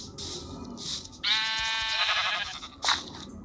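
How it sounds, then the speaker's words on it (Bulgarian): Blocky Minecraft sheep bleat in a game world, a strong wavering bleat followed by a short second call, fairly close and clear with no talk over it. "Така, още една овца видях тук."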